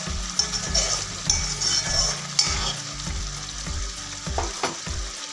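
Potatoes for shahi dum aloo frying in hot oil, a close steady sizzle broken by clinking stirring taps at an uneven rhythm, no talk.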